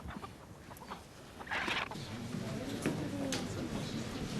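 A voice imitates a cockerel crowing, with drawn-out, wavering calls at moderate loudness over indoor background noise.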